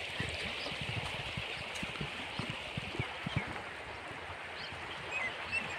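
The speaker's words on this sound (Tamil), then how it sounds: "நிறைய தண்ணி வருது." Water flowing and trickling steadily, a soft continuous rush with small gurgles, fairly faint and with no voices.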